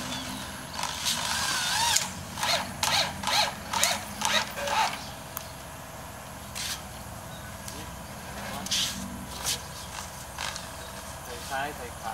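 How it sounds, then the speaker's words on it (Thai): A power drill drives and tightens bolts on a demountable bamboo house, giving a run of short, rhythmic whirring bursts close by, then a quieter stretch with a few more brief bursts and some faint background sound. "วางลงถูกตำแหน่งนะครับก็จะยึดน็อตนะครับ"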